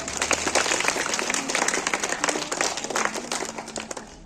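An audience at a school position-holders event claps for the top-scoring students, a dense, steady wash of many hands lasting several seconds, with faint voices mixed in.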